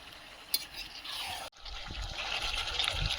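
Food being stirred in a small kadai while cooking pumpkin and shrimp dishes for ten people, with wet scraping and sloshing strokes up close, briefly interrupted by a cut.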